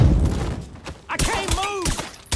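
Gunfire in the Mafia 3 video game, a few sharp shots cracking in quick succession over a brief stretch, with a voice talking in between.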